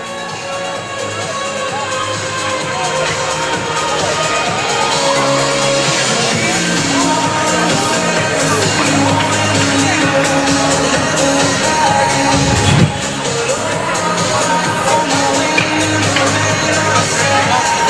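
Loud, steady roar of an enthusiastic crowd filling a hockey arena on an Easter Sunday afternoon at a senior men's playoff game between the CB Blues and Deer Lake Red Wings, with a sharp bang near the end.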